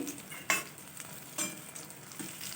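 Fish frying in a pan gives a soft, steady sizzle, broken by a few louder clattering bursts as the pieces are stirred or turned. No one speaks.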